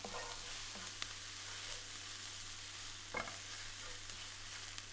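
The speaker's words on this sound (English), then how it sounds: "Stir together and cook for a further minute." Garlic, salt, black pepper and chilli flakes frying in a pan, a soft continuous sizzle with a few brief stirring scrapes, faint and steady, without talk.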